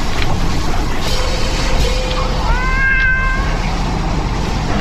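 A lynx kitten meows in the Shelter 2 video game, giving a couple of high, drawn-out wavering cries over a steady ambient wash, fairly close and clear, with no talk.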